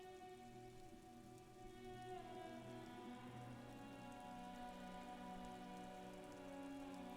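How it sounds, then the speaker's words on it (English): Rain drips off Eternite-covered roofs in an urban coastal scene from the video game Disco Elysium, a steady soft patter heard alone under a low, sustained ambient musical drone. "rain dripping off Eternite-covered roofs"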